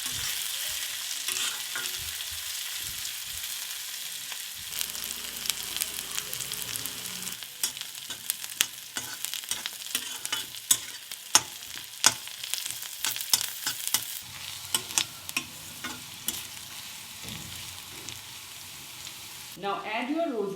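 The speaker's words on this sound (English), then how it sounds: "Stir and cook them until the onions turn golden brown and it's completely cooked." Onions, green chilies and finely chopped ginger sizzle and fry in a pan while being stirred, with steady hiss and repeated scraping, clicking spatula strokes close up, intensifying in the middle and continuing to the end.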